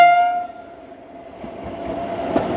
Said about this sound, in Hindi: यहाँ पे आती हुई पंजाब के एक बेहद ही शानदार ट्रेन